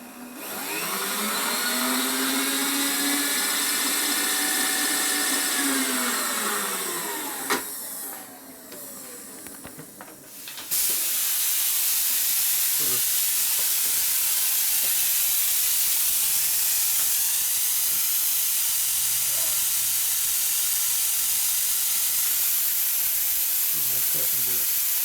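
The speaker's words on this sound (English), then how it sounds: "Now I gotta get my cutter in here." Lightweight cutter grinding into the exhaust port of a Harley Shovelhead motor during an FL bobber rebuild, a steady loud whine with a brief drop partway through before the tool runs on continuously.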